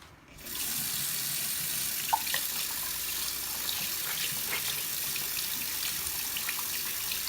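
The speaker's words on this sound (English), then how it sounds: "I am going to be using warm water to clean my sponges." Warm tap water runs steadily from a faucet into a sink, a continuous broad splashing rush that starts abruptly and holds close and even, with a few faint drips and clinks, no voices.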